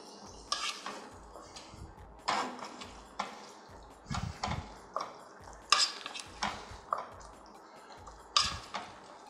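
A spoon scrapes and clacks against a pan while pasta with vegetables and garlic is stirred, in a series of close, irregular strokes with soft sizzling between them and no voices.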